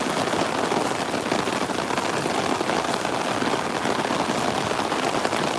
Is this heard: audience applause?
no